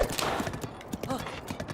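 Horse hooves clip-clopping in Zelda Breath of the Wild, a quick uneven run of hoof thuds beneath someone talking.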